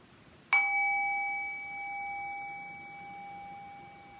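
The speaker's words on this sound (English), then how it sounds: "Now when you hear the bell, you can open your eyes very slow and come back." A single bright bell struck once, its clear ringing tone lingering and slowly fading in a quiet room.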